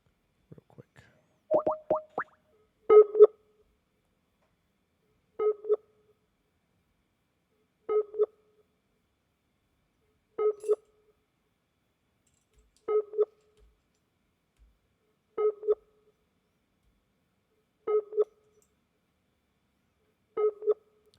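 A phone call is placed: a few quick tones first, then a repeating ring signal sounds at even intervals of about two and a half seconds, each ring short and clean against near silence.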